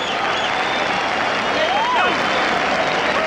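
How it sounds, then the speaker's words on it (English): Boxing crowd applauding after a heavyweight fight, a dense continuous wash of clapping and crowd noise with voices mixed in. "And the crowd is on its feet applauding."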